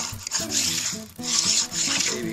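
A router plane shaves wood in a few short, rasping strokes, each a brief scraping pull with small pauses between, close and moderately quiet.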